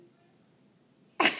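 A one-year-old baby girl sneezes once, a short sharp burst at the end after near silence.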